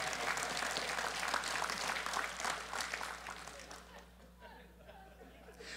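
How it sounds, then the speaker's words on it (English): Church audience applauding during a sermon, a dense wash of many hands clapping that thins and fades toward the end, with some murmured voices underneath. "Now you can applaud on that."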